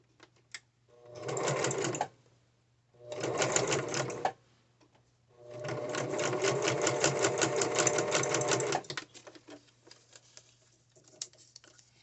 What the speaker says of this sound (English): I'm going to run that through my machine again, and I'm going to zigzag it.